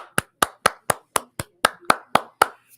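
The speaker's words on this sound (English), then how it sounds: "Round of applause for Rick." A short run of about ten sharp claps at a steady pace, fairly close, with no voices, more like one or two people clapping than a crowd's applause, during a football broadcast.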